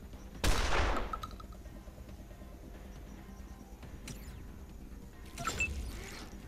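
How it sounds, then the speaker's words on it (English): A shotgun in a video game pod battle lets off two sharp blasts about five seconds apart, each with a short decaying tail, over a quiet low background. "shotgun"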